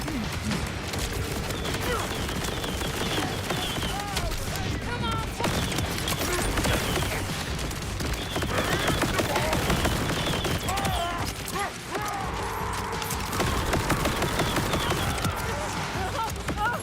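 Video game gunfire, rapid bursts of shots and rattling fire running almost without pause, loud and dense, with a voice talking over parts of it.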